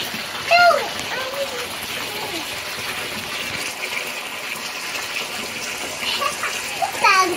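A Doberman puppy is bathed and scrubbed with soapy water, with moderate splashing and running water throughout, high whimper-like squeals near the start and end, and voices in the background.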